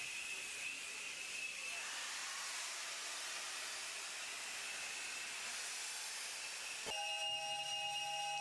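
Steam locomotive on a safari steam service along the Mombasa-Voi railway line, a long continuous shrill whistle over steady hissing steam that cuts off sharply, followed by a clanking mechanical tone with a lower hum.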